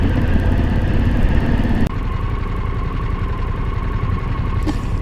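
Harley-Davidson Pan America motorcycle engine while riding, a loud continuous rumble with a steady mid-pitch hum, a brief dip near two seconds as it shifts, then droning on with wind noise.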